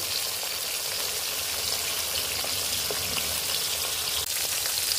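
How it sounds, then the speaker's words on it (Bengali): Small sarputi fish fry in oil with a constant soft sizzle and fine crackling, steady and close, with no voices. "মাছগুলো আগে ভালো করে ভেজে নিচ্ছি।"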